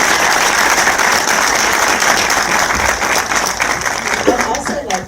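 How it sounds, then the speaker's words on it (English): An audience at a Pan African Film Festival screening event applauds student filmmakers, a loud continuous round of clapping with a voice briefly emerging near the end. "Can we give them a round of applause?"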